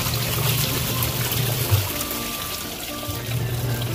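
Water pours and trickles from a container to refill a plant's pot outdoors, a soft steady splashing with a low rumble that briefly dips then resumes, close and alone without talk.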